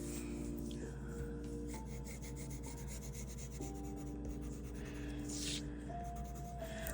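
Soft, steady pencil rubbing as graphite shades a pumpkin drawing on paper, a faint continuous rasp of strokes over a quiet background hum with a few brief tonal notes.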